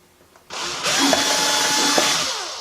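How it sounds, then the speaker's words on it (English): A small power drill bores a hole into the bottom of a pumpkin for a topiary, its loud, close whine starting abruptly and running steadily for about two seconds with no talking. "drill a hole at the bottom of all the pumpkins"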